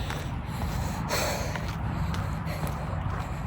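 Heavy, rhythmic breathing and snorting from a runner with asthma during a half-marathon training run, close to the microphone, with faint footsteps and outdoor noise behind.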